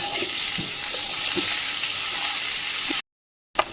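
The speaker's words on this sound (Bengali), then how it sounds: "এই যে সবজিগুলো ভেজে নিচ্ছি" Mixed vegetables fry in a wok in a home kitchen with asafoetida, giving a steady close sizzle with a few soft stirring knocks, then a half-second cut to silence near the end.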